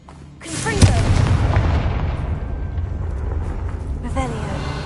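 Confringo explosive spell cast in Hogwarts Legacy, a sharp blast that swells into a heavy, rolling boom and fades slowly, with a short second burst near the end and a voice speaking at the start.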